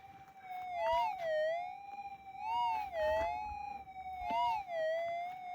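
A Minelab GPZ 7000 metal detector's electronic warbling target tone rises and falls in waves over a small gold nugget, repeating several times with faint rustling underneath.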